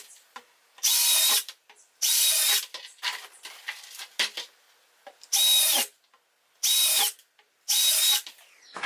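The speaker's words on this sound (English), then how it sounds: "I just drill 6 holes in a line" A power drill drills six holes in a line in a plastic 5-gallon bucket, whirring in six short, loud bursts separated by brief pauses, with clattering and handling noises between the runs.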